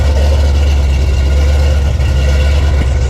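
A Foxbody Mustang engine runs after a fuel pump replacement, idling with a loud, steady low rumble that continues unbroken throughout, close up with no voices.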